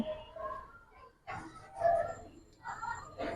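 Pigeons at a loft of Giribaz high-flyer birds, soft low cooing in a few bursts, close and fairly faint, with some background noise around them.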